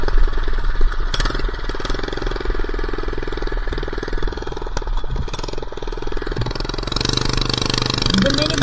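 A minibike engine rides down a back alley with a loud, rattling, close-up putter that runs continuously and swells near the end, with brief knocks along the way.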